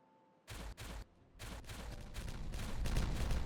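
Dynamite blasts going off in the beaver city-building game Timberborn, two sharp bangs followed by a longer run of rumbling explosions that build into a loud sustained roar.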